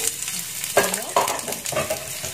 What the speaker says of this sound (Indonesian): Lalu kita masukkan bawang bombaynya dulu ya.